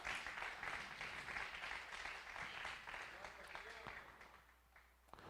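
A church congregation claps during a conference service, fairly loud at first and then thinning out toward the end, with voices mixed in under the clapping.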